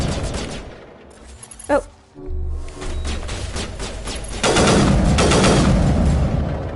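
Gunfire in Mass Effect: bursts of rapid automatic shots crack close and loud, with a short whining sound effect early on and a dense sustained barrage in the last seconds, and a voice briefly exclaiming.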